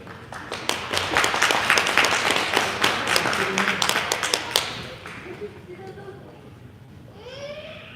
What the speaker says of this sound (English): So a round of applause for Anita.